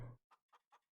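Chickens in Farming Simulator 19 give three short, evenly spaced clucks. The clucks are faint and stand alone after a brief low burst at the start.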